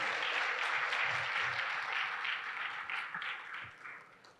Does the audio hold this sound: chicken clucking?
no